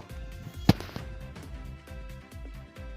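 A sharp single pop cracks out over a steady low engine rumble of a Royal Enfield Bullet motorcycle, followed by softer sputtering backfire pops from the exhaust.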